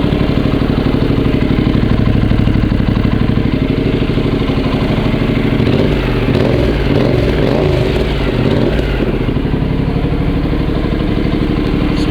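A Honda CTX700 motorcycle idles through an aftermarket Akrapovic muffler, a loud, steady, low throbbing rumble close to the microphone with an even pulse and a slight wavering in the middle, with no talking.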